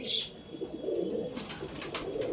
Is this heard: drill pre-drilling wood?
no